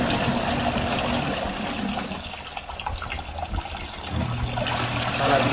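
A small portable mini washing machine churning and spinning its load of water, with a steady sloshing, gurgling swirl that dips briefly and then surges louder again near the end.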